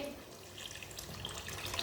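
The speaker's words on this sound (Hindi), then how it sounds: "3 गिलास पानी और डाल लेंगे।" Three glasses of water pour steadily into a pot of jaggery for rice, a continuous splashing rush with a few bright droplet sounds near the end, close and fairly quiet.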